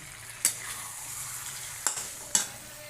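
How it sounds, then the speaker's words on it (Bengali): A curry sautéed in a pan, a soft continuous sizzle broken by three sharp spatula scrapes and clanks against the pan, close and unaccompanied by talk. "আমি আর একটু কষিয়ে নিই"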